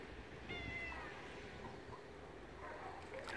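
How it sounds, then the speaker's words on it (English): A cat meows a single drawn-out, rising cry, faint and indoors, over a low steady background hum. "could you please get that cat to stop meowing like that?"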